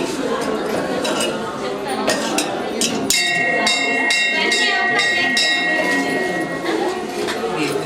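Bright metallic clinks and chimes of vessels as a bowl is set on a rangoli during a Satyanarayana puja at a temple, scattered taps and ringing tones over a busy backdrop of people talking.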